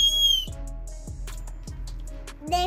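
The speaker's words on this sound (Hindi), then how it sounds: "चुटकी। सीटी है।" A toy whistle built into a child's colorful umbrella gives a steady high tone, followed by a few low, breathy squeaks repeating about every half second, loud and close.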